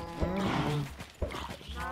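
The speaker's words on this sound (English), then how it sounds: "And if we put a bunch of cows in here," Minecraft cows lowing in a close, game-style moo that rises and falls, with a second short moo about a second later.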